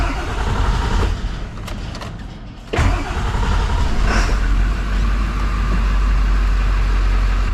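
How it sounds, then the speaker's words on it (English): Ford F450 truck with a manual transmission cranks and starts, a sharp jolt followed by a loud, steady engine rumble that runs on close by. "I had to push the clutch down to start the truck"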